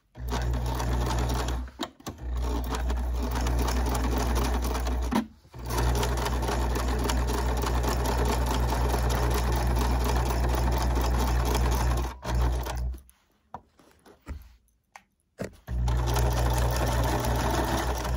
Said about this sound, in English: I'm going to straight stitch and back up in the beginning so I lock my stitch.